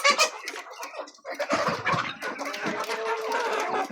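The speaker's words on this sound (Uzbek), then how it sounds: "Andijon qora jo'jalarimiz mana." Three-and-a-half-month-old Andijan black chicks cluck and chirp up close in a lively, overlapping chatter, with no voices present.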